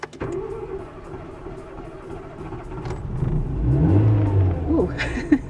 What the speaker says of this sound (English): I thought I was going to record a shot of me not getting the car started, but it started.